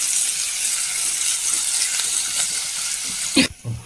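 Shallots, green chilli, garlic, curry leaves and ginger sauté in a pan with a steady, close sizzle that stops abruptly near the end, followed by a couple of brief clattering knocks.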